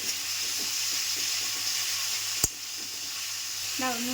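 Potatoes fry in a pan for an egg-potato bhujia with a steady, loud sizzle throughout, a brief sharp clatter midway, and a faint voice near the end.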